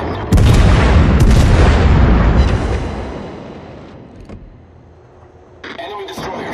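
The German battleship Clausewitz in World of Warships fires its naval guns in one heavy, loud blast that rumbles and fades over several seconds, with a voice announcing orders over it.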